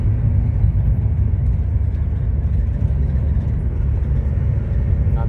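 Steady low engine drone and road rumble from an Opel Frontera B with the 2.2 DTI diesel, heard from inside while cruising on a road, constant and fairly loud with no pauses.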